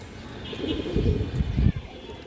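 Muslodom pigeons coo in low, soft bursts close by, a breeding pair kept for sale, with voices talking over the birds throughout.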